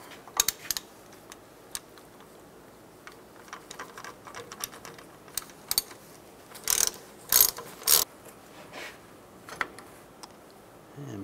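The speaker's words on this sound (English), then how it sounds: "Using a 10 millimeter hex socket, we're going to take these caliper bolts out." A ratchet fitted with a 10 mm hex socket loosens the brake caliper bolts on a 2007-2014 Chevrolet Silverado 2500 HD. Close, sharp clicking comes in short runs and isolated ticks, ending in a few louder bursts.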